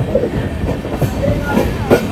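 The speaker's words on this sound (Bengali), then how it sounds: "নসিপুর রেল ব্রিজের ওপর দিয়ে পার হয়ে এসে এখন ঢুকছে নওয়াবের শহর মুর্শিদাবাদ জংশনে।" Sairang Kolkata Express rolling into Murshidabad Junction after crossing the Nasipur rail bridge, a steady low rumble of wheels and carriages with faint rhythmic knocks, close and continuous.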